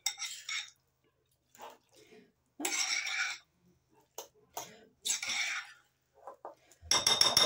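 Guacamole stirred with utensils in a bowl, giving a few separate bursts of scraping and clinking between pauses, with soft sounds between and a louder clatter at the end.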